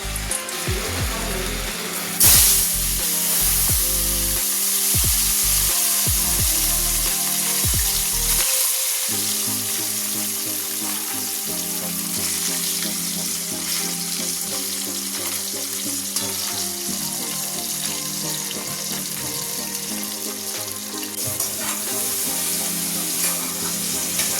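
Hot oil in a wok sizzles loudly and continuously, with bursts of spitting and crackle early on that settle into a steady close fry with no talking.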